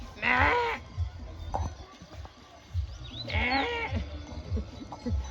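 Two bleats from a sheep at a highland pasture camp, one at the start and another midway, rising and wavering, with faint outdoor rustling and low background noise between them.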